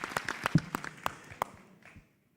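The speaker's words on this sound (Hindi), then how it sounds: "जोर से तालियां बजाई जाए हमारे शाजिंदे के लिए" Scattered claps from an audience at a Hindi poetry show, thanking a guitarist. They come in quick uneven bursts at moderate distance, then thin out and fade to silence.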